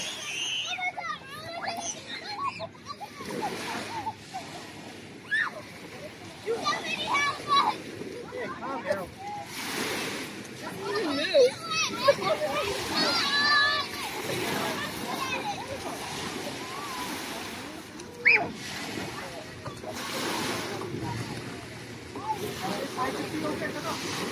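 Swimmers splash in the water at Frenchman's Bay on Lake Ontario, with children's voices and playful shouting filling the scene, and intermittent splashes rising over steady background chatter.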